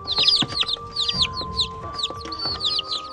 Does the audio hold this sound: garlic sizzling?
no